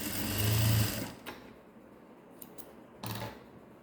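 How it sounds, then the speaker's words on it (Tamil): A sewing machine runs a straight long stitch along a blouse hem folded about one and a half inches, giving one loud burst of motor whir followed by a quieter pause, then a second short burst near the end. "இந்த மாதிரி ஒரு ஒன்றரை இன்ச்சில் நம்ம மடக்கி ஒரு ஸ்ட்ரைட் தையல் போட்டுட்டு வந்துடுவோம்"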